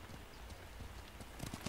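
Horse hoofbeats from the video game Ghost of Tsushima, a steady clip-clop of hooves that grows sharper and louder near the end, with no talking.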